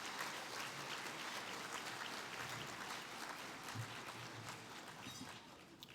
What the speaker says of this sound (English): a round of applause for our dignitaries